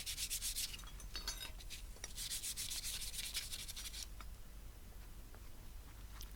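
Small metal hanging basket brackets being sanded by hand with fine-grit paper, soft close scratchy rubbing strokes in quick bursts that fade to quiet after about four seconds.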